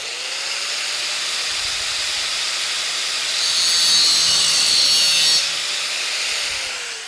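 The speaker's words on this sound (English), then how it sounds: "I'm going to start by just zipping off this bent piece of the Allen wrench" A grinder cuts off the bent end of a hardened steel Allen wrench, giving a steady loud hiss and whine throughout that grows harsher midway as it bites.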